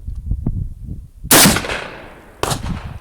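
A single loud rifle shot from an Italian Carcano cavalry carbine in 6.5x52mm at an outdoor range, a sharp crack with a ringing tail, followed by a metallic clatter as the clip drops out, over low background rumble.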